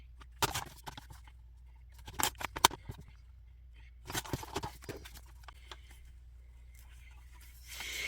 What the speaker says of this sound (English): I can't see why I can't just use my paper trimmer and do these really, really quick